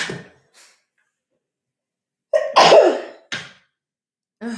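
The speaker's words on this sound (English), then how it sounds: "I'm about to sneeze." A single sharp sneeze bursts out near the mic, followed by a short breathy sound, with quiet pauses around it.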